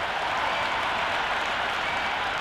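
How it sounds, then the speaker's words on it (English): Crowd at a cricket stadium before an Australia vs Ireland T20 World Cup match, a steady, loud roar of cheering and applause that fills the whole stretch without letup. "already the crowd making a hell of a racket"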